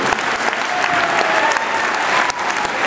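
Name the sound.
audience applause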